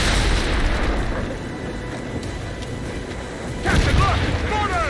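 Ship cannon fire in a naval battle in Assassin's Creed Rogue: heavy rumbling booms rolling under a dense roar of battle noise, with a louder blast and crashing near the end.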